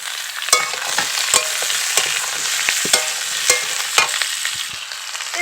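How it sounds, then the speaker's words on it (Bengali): Cut potatoes fry with onions in oil under a steady loud sizzle, broken by regular scraping and tapping stirs of a spatula in the pan. "এর মধ্যে কেটে রাখা আলুগুলোকে দিয়ে দিচ্ছি।"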